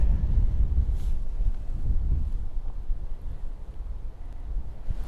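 Steady wind gusting across an open golf course, a constant low rumble and buffeting on the microphone with no break, loud and close throughout.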